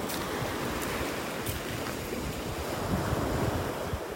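Steady ocean surf washes onto a beach in North Naples, Florida, a continuous broadband roar of breaking waves with gusts of wind buffeting the microphone throughout.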